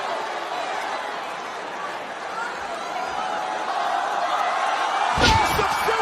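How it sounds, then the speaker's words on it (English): A heavy slam lands late as a wrestler hits a superplex from the top rope onto the ring during a women's tag team match, a sharp thud rising over a loud, steady arena crowd roar. "Massive superplex."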